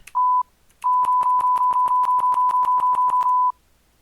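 A steady high-pitched beep tone keyed in short and long pulses, two opening blips then a fast regular run of dots ending in a longer tone.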